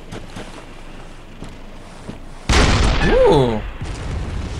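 Cannon fire in a video game sets off a sudden loud boom, followed by a rumbling explosion that sweeps and fades over about two seconds, while a man exclaims.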